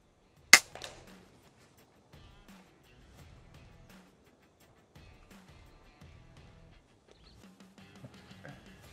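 A single sharp crack from an FX Impact M4 high-power air rifle fired while hunting outdoors, loud and close, then quiet with faint rustling and low murmurs afterward.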